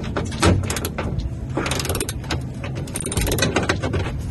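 A hand ratchet loosens bolts under a GR86 car, rapid close metallic clicking in quick irregular bursts with light clanks, continuous throughout.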